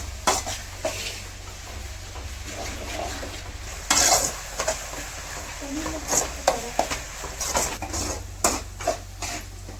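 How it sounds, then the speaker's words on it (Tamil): Onions sauté in oil in a pan, a low sizzle broken by repeated spatula scrapes and metallic clinks against the pan, close by, with a voice talking at times. "வெங்காயம் ஓரளவுக்கு நல்லா வதங்கிடுச்சு"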